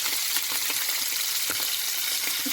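Stuffed Indian mackerel frying in hot oil in a pan, a steady close crackling sizzle with small popping spits throughout, no voices.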